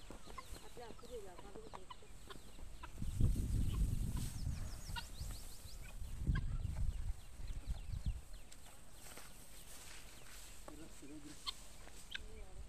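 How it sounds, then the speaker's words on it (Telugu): Chickens cluck softly and intermittently while pecking insects from under rustling paddy straw, with a brief burst of louder scratching and movement in the middle. "వరిగడ్డి కింద ఉన్న పురుగులు తింటున్నాయి సిటీ కోళ్ళు"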